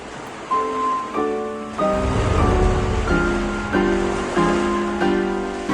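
Dramatized ocean surf for a Lovecraft audio drama, a low, surging wash of waves beneath a slow, stepping musical line of sustained notes, with no voices.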